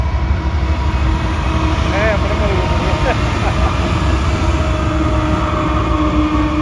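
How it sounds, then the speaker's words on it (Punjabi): A very long freight train hauling goods from Canada rolls past a farm in America with a constant, heavy, close rumble and faint tonal squeals, while someone talks briefly over it. "ਦੇਖੋ ਹਲੇ ਹਾਲ ਟ੍ਰੇਨ ਜਾਂਦੀ ਹੈ"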